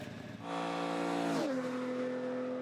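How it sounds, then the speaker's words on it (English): A Nissan 30Z sports car engine revs up loudly and then settles into a steady drone as the pitch drops and holds, heard close with no voices. "The engine side's mechanical sound is also nice."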